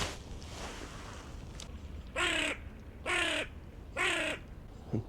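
A crow caws three times at steady, roughly one-second intervals, fairly clear above a low wind and water hiss beside a lake where someone is fishing for perch.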